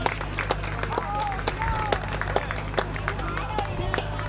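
At an outdoor town parade, scattered clapping and light applause rise from a street crowd amid chatter and background noise, fairly distant and moderate in level, with voices talking over it.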